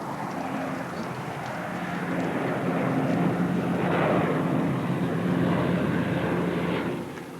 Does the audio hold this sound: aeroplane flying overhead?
yes